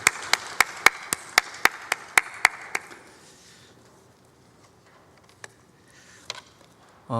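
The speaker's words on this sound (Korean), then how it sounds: "하나님께 영광의 박수 올려드리겠습니다." Hand claps at a Korean church service, about ten sharp, evenly spaced claps close by in a steady rhythm, then a fade to near quiet with a couple of stray claps.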